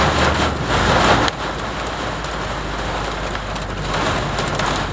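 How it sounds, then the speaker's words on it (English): Heavy rain pours down during a violent storm, heard from inside a tall camper as a loud, steady, dense roar with no voices. "I was sitting there staring at this rain, thinking any second I'm going to see the wall of a tornado."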